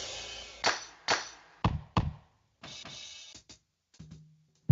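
Snare drum samples from a drum pack play one after another in FL Studio: short, sharp hits that ring briefly, some shorter and softer, with no talking.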